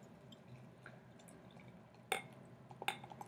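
Flying Dog Gonzo beer poured into a glass, heard as a faint liquid trickle and drip against a quiet room hum, with two sharp glassy clinks near the end.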